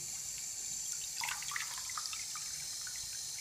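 Extremely hot water poured onto a fake Pokemon card, a steady faint pouring hiss with light splashes and drips, no talking.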